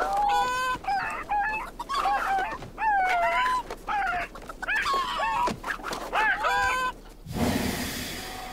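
A rooster in the farm video game Vie à la Campagne squawks and clucks frantically in repeated bursts while a llama attacks it, ending in a short burst of noisy rustle.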